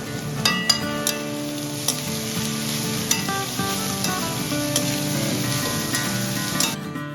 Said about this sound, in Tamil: நாலு கேரட்டை துருவி அதையும் இதோட சேர்த்து வதக்கிக்கிறேன்.